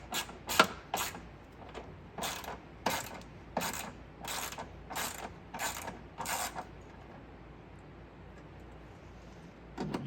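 Ratcheting clicks from tightening bolts on a 2003 Toyota Tacoma door check strap come in a quick series of close, crisp bursts, then stop, leaving a quiet background.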